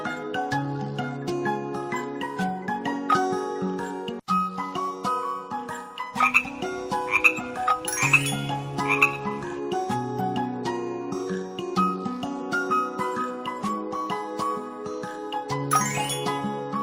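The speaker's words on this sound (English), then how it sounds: "Frog." A frog croaks repeatedly over bright, chiming children's music with toy dings and jingles in a kids' animal-names setting.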